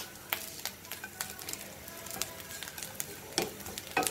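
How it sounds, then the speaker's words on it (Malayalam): Grated coconut being dry-roasted for pumpkin and cowpea erissery, stirred in a pan with faint sizzling and soft intermittent scraping taps from the spoon, quiet and close. "നമുക്കൊന്ന് നല്ല ഒരു കളറ് ബ്രൗൺ കളറാകുന്നത് വരെ നമുക്കൊന്ന് വറുത്ത് എടുക്കാം"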